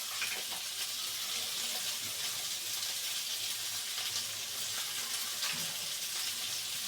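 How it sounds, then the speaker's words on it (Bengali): Chopped onions and potatoes fry in hot oil in a home kitchen, the start of a tomato and tilapia curry, giving a steady, even sizzle close by with faint crackles and no one talking. "এটাকে আমি এখন একটু ভেজে নেব।"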